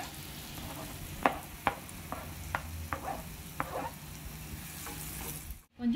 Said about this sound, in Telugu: బాగా ఫ్రై అవ్వాలండి.